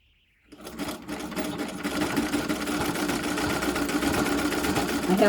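Treadle sewing machine starting up after a brief silence and stitching steadily, a close, continuous whirring and rattling that builds and holds a fast, even rhythm.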